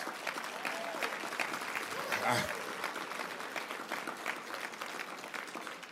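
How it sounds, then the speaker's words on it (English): Conference audience claps for the event staff at a leadership kick-off session, dense sustained applause from a large room holding at an even level throughout, with faint voices mixed in. "please give them a very big round of applause"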